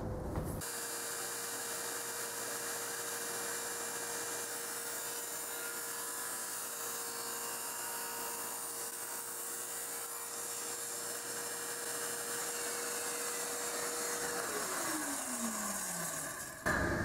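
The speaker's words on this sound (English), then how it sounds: "we're going to cut it right at the edge of the blade to get our 30 degrees" A power saw cuts a piece of material at a 30-degree angle for a small folding table, producing a loud, steady whine for about fourteen seconds before the blade spins down with a falling pitch.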